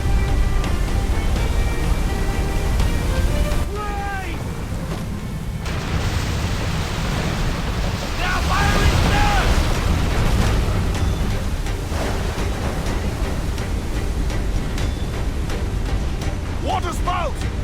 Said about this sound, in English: Water spout!